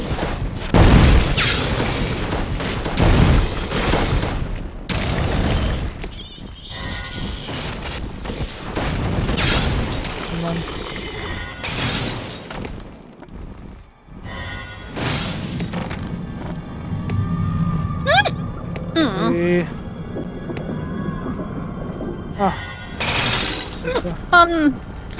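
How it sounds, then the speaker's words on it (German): An atomic bomb detonates in the Dungeon Siege video game: heavy booming blasts and shattering bursts at the start, then a rumbling, crackling aftermath with scattered debris sounds. Voices talk over parts of it. "Bombe. Eine Atombombe."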